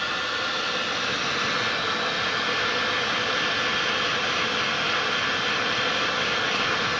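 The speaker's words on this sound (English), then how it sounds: "with one of these, a heat gun, you just need to slowly" Steady, loud broadband hiss of a heat gun blowing hot air over heat-shrink tubing during a 12 V low-voltage greenhouse light repair, continuous and unbroken throughout with no talk.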